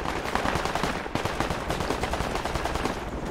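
Sustained automatic gunfire in the military shooter game Project Reality, a loud dense rapid stream of shots with a short break near one second.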